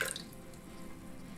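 Water is poured from a bowl into a pot of chana dal set to boil, giving a faint liquid splash and trickle that fades quickly into a low, quiet background.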